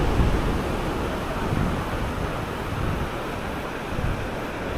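Ocean surf rolls continuously onto a beach in Florianópolis where surfers ride the waves, with steady wind buffeting the microphone into a loud, broad roar and no talking.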